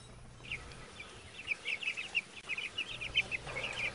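Chickens clucking in a pastured poultry setting, a flock giving repeated short, chattering clucks that grow busier and louder midway, close by, with no talking.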